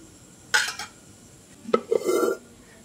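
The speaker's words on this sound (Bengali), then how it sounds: "এখন আমি এই পটল আর টমেটোগুলোকে একটা থালার মধ্যে তুলে নিচ্ছি।" Pieces of pointed gourd and tomato are transferred onto a plate, producing a few close, crisp clinks and scrapes of a utensil on the dish, with a quiet pause between two short clusters.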